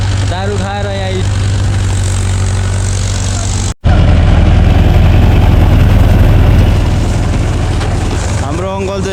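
A tractor engine rumbles steadily and loudly while threshing paddy rice, holding a constant low drone that breaks off for a moment, with voices talking over it at the start and end.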